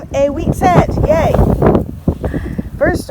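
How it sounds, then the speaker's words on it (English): Outdoors on a very windy day during metal detecting, gusts buffet the microphone with a low, rumbling roar that runs under a man's close, steady talking. "Sorry about the wind"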